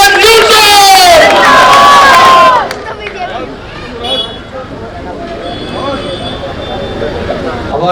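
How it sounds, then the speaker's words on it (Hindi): A crowd at a Delhi election rally greets politician Haroon Yusuf with loud cheering and shouting for the first few seconds. The noise then drops to a lower, scattered crowd murmur. "हमारे महबूब नेता हारून भाई के लिए जोरदार तालियां सभी बजाएं हाथ उठा के"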